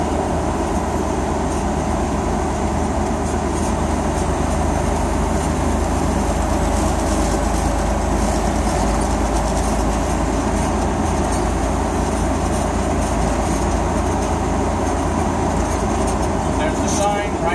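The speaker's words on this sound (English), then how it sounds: "I'm going to slow down to 40 so I can downshift to 9th" A heavy truck's engine drones steadily with low rumble and road noise as it slows toward 40 for a downshift to ninth gear before an exit lane, loud and continuous throughout, with no clear shift break.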